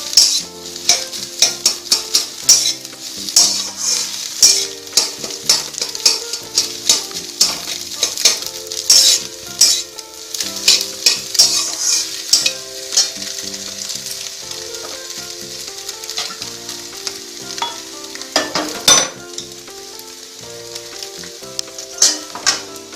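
Egg sizzling steadily in a hot kadai while frying to brown for a tadka dish, with constant loud crackling and frequent scraping and clinking of a spatula stirring against the pan.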